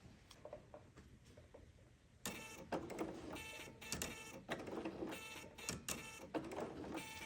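A serger overstitching fabric for a Celtic knot project: quiet background at first, then rapid, rhythmic mechanical chattering in short bursts with brief pauses between runs, close and fairly faint.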